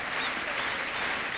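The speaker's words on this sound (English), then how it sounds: "now the Australian contingent urging on Leighton Hewitt," A tennis crowd at a Paris match between Hewitt and Davydenko breaks into sustained applause and cheering, a dense, loud wash of clapping filling the whole moment.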